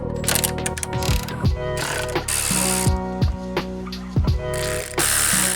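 A ratchet clicks in quick bursts while removing 13mm nuts from the rear sway bar brackets on a BMW. Rapid pawl clatter alternates with brief pauses and turning sounds.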